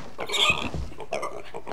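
A pig in a video game grunts and oinks close up in a short burst of two or three snorting calls, loud with no other sound.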